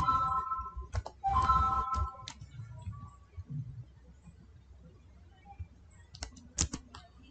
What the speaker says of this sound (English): Now in here type contrast theme.